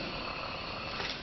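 A Furby Cool electronic toy gives off a soft, continuous cat-like purr at close range, a steady breathy rumble holding for about a second with no talk over it.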